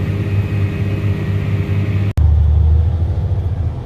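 A grain cart unloads grain into a truck on a farm, giving a loud, steady mechanical drone with a low hum, briefly cut off midway and then continuing.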